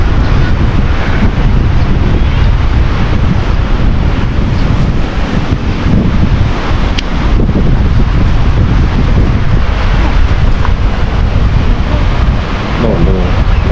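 Strong wind blows on a beach at Hat Kaeo, roaring loudly against the microphone in continuous gusts, with surf rumbling underneath and no speech.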